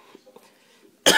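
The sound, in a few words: cough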